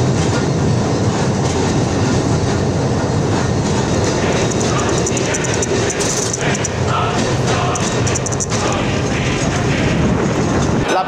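An electric tram on Line 1 in Iași rolls along its rails with a loud, continuous rumble and clatter of wheels over track joints, and a brief squeal part way through.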